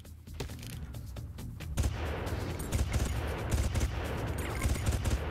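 Sustained gunfire in the video game Far Cry 1, with dense overlapping shots and booming reports forming a loud, continuous barrage that swells in bursts throughout.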